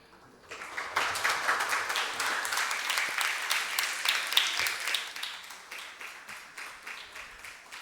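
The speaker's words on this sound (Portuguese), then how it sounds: "Obrigada pelas palmas" An audience at a children's council session applauds after a young speaker finishes, a steady wash of many hands clapping that starts abruptly, holds evenly, then tapers off.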